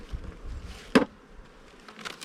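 Honey bees buzz at an open hive in a colony given a test frame to check for a queen, a low steady hum with one sharp louder knock partway through, no talking.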